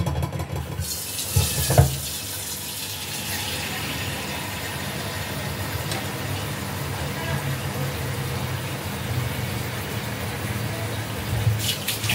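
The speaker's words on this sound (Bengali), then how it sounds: "এবার আমি এর মধ্যে অ্যাড করব 4 কাপ দুধ।" Four cups of milk pour into a pan of roasted vermicelli, giving a steady, close liquid rush and gurgle that lasts throughout, with faint background noise.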